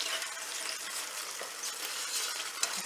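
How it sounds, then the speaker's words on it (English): Cooked pasta is stirred into a sizzling rasta pasta sauce in a pan, giving a close, steady frying hiss with soft stirring scrapes and an occasional faint clink. "we're going to go ahead and add in our pasta that we cooked earlier"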